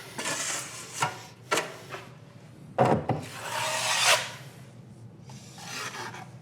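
Close scraping strokes across a drywall patch, pressed firmly to knock down ridges, with several uneven rasping drags and brief knocks and no voices.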